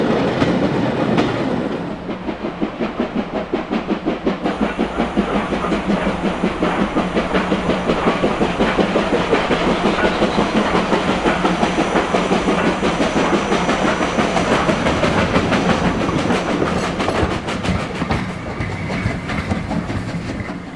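A steam-hauled train on a regular working from Merseyside toward the Pennines and Leeds passes at Edgeley, Stockport, with steady loud clickety-clack of wheels over rail joints and a hissing rush continuing for about twenty seconds.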